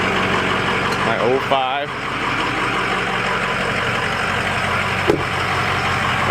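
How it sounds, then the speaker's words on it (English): Ford 6.0 Powerstroke diesel 4x4 truck idling on a cold start through a 4-inch straight pipe exhaust, a steady loud rumble running throughout with someone speaking briefly over it. "Cold start. 4-inch exhaust."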